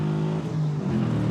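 Manual Chevrolet Camaro SS accelerating hard, a loud, close engine roar with rising revs in a brief burst, no talking.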